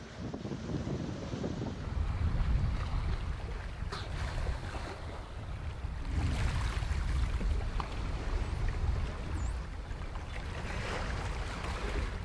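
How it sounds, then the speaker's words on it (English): A sailboat runs dead downwind wing and wing with the Genoa poled out, giving a soft, steady wash of wind and water against the hull, with faint gusts and splashes at a moderate distance. "Then, Ty pulled out the Genoa with the whisker pole, allowing us to sail dead downwind, wing and wing."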